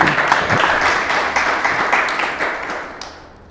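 Audience applause at a leadership award presentation, a dense burst of clapping that swells briefly and then fades away over a few seconds.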